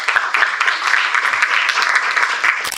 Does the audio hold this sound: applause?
yes